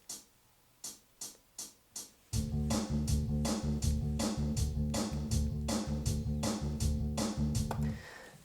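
Drum and bass demo track playing back through a microphone: a few sharp drum hits alone, then a full steady groove of loud, dense drums with thick bass running to the end.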